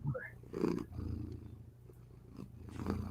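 A sleeping cat purrs or snores with a soft, rhythmic low rumble that comes close and quiet in slow breathing cycles, with a brief higher sound near the start.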